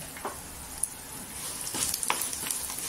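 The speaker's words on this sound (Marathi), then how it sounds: "असा पण गूळ आहे ना वितळतो गरम झाल्यानंतर कढई." Plain jaggery melts and sizzles in a hot kadhai for til ladoo, a steady close crackling fry with a few brief stirring clicks and scrapes and no talk.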